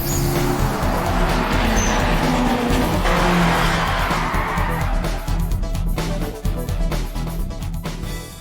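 A race car engine roars loud and continuous on an anime mountain pass, with tire squeal and skidding sweeping through and the pitch surging as the car pushes uphill.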